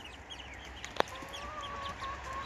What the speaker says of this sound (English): So these are the chickens, which we're rearing for meat birds.